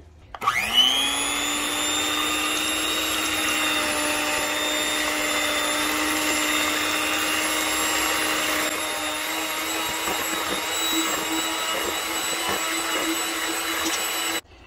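An electric mixer whirs through boxed cake mix batter with a cup of milk. Its steady, loud motor whine starts abruptly and runs unbroken for about fourteen seconds, then cuts off.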